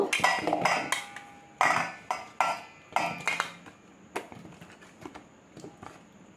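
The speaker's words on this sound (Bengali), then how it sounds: "এবার আমি এরকম একটা বাটি নিয়েছি নিয়ে ওর মধ্যে আমগুলো ঢেলে দেব" Several washed mangoes tumble into a bowl, a run of sharp knocks and clinks that start loud and close, then thin out into lighter taps and small rattles.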